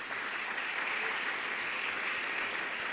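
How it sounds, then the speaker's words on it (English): An audience claps together in a dense, continuous round of applause at steady volume. "So can we have another round of applause,"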